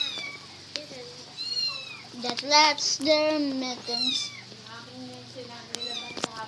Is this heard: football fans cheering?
no